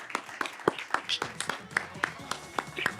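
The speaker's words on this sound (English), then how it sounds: "Can we clap hands for them as they come up here?" An audience at a partnership announcement event claps steadily in brisk, uneven applause as presidents come up on stage, heard fairly faintly and at a distance.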